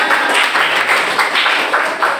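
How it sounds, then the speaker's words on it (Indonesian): Students in a classroom clap for a group of classmates, a close, loud burst of rapid hand claps with a lively, uneven rhythm. "tepuk tangan untuk kelompok kita"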